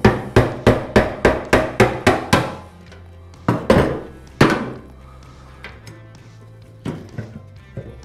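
Screwdriver struck repeatedly against a metal fuel pump lock ring to turn it counterclockwise, a quick run of about nine sharp, evenly spaced taps up close, then a few scattered louder knocks after a pause.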